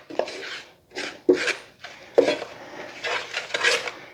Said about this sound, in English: Now stir it up again.